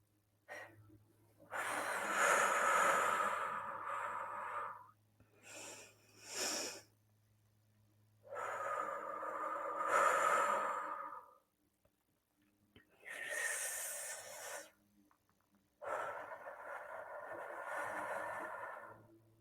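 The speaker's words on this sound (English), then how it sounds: "We're going to do a count of 5 in and 5 out, and we're going to do 3 deep breaths." Slow, deep breaths sound close up, three long inhale-exhale cycles at a steady count of about five each, soft and airy with quiet pauses between them.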